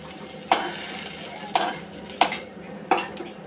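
Fried eggplant lifted from a pan of hot oil: a soft background sizzle with four sharp metal spatula scrapes and clinks spaced about a second apart.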